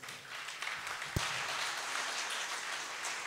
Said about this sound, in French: je voudrais d'abord que vous puissiez applaudir très, très fort pour vous-même,